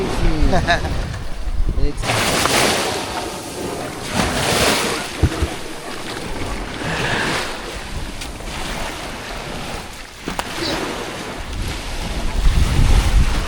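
Strong ocean surf breaks at a beach resort, with a steady roar of waves and heavy wind buffeting the microphone, and people talk over it.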